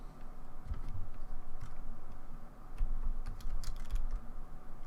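Keys on a computer keyboard are tapped in a brief run of light, close clicks while a command is entered, over a steady background hum.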